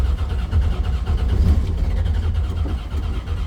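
A supercharged 1968 Chevrolet Camaro with a B&M Quicksilver shifter restarts after stalling, its engine rumbling loudly and steadily with low, rough revving throughout, close by and with no talking.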